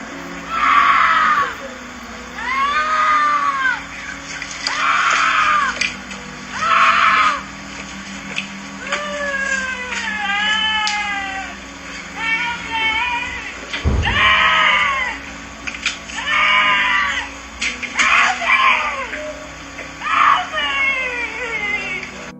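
Repeated high, wavering screams in short bursts, some sounding almost like bleating, over a steady background hum with a thud midway.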